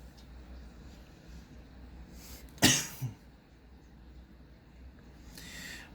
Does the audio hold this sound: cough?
yes